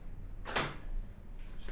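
A Nissan GT-R door unlatches and swings open with a single short clunk and creak, close and fairly quiet against a low background hum.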